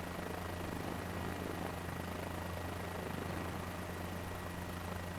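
Helicopter engine in Microsoft Flight Simulator 2024: a steady, loud, continuous rotor and turbine drone with a low rhythmic thrum throughout, unchanging over several seconds, no talking.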